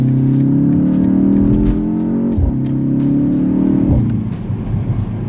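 A 2025 BMW X2 M35i with its stock intake accelerates hard in second gear, its engine note rising steadily, briefly dropping at a gearshift, then climbing again, heard loud from inside the cabin.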